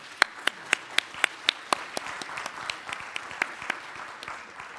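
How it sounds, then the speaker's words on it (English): A round of applause for conference speakers: a few sharp, distinct claps ring out near the microphone at first, then a thinner scattering of clapping from the audience continues at moderate volume. "I think we should give them all a nice round of applause"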